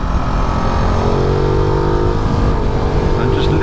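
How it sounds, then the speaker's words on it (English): A 2022 Ducati Multistrada V2S motorcycle engine drones steadily and loud while riding, revving with a constant throbbing hum and some rising whine, close up. "And just listen to that engine."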